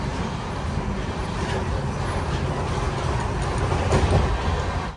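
The Netravati Express running at 110 km/h, heard from on board: a loud, continuous rolling rumble and rattle of the carriage that swells slightly toward the end.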